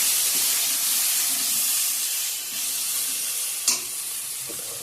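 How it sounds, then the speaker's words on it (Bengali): Spices frying and being stirred in a hot pan for an egg curry, a close, steady sizzle with a sharp scrape or clack near the end, no voices. "চলো এটাকে একটু ভাজা ভাজা করে নিয়ে বাকি মশলাগুলো পরে দেব"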